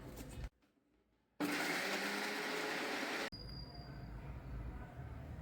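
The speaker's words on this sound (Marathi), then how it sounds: "आता ही बारीक करून घेऊ चांगली" A mixer grinder whirs through green chillies, ginger and garlic with salt and sugar for a dosa chutney: a loud, steady, harsh roar of about two seconds after a short quiet gap, then dropping to a lower hum.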